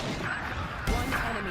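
Grenade blast in a Valorant pro match, a sudden loud thump and crash midway through, set against steady game noise and a caster's voice.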